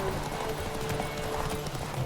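Horse galloping in a race in The Witcher 3, rapid rhythmic hoofbeats pounding steadily and close up, layered with game music tones and wind-like background noise.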